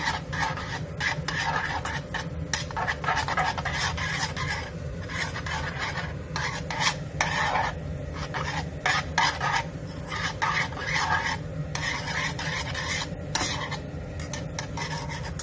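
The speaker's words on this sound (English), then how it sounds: "We're gonna quickly stir them." Carbonara pasta stirred in a pan with its egg sauce off the heat: continuous scraping and sloshing strokes of a utensil against the pan, close and steady throughout, with no talking.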